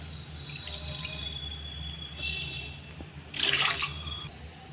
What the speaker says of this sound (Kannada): ಇದಕ್ಕೆ 4 ಕಪ್ ನೀರು ಆ್ಯಡ್ ಮಾಡ್ತಾ ಇದ್ದೀನಿ